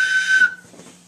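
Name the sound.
whistle being blown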